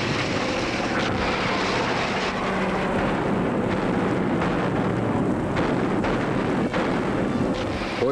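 Military aircraft diving in attack on transports and destroyers in the Arctic during wartime, a dense continuous roar of engines and rumbling blasts, loud and sustained throughout with no voices.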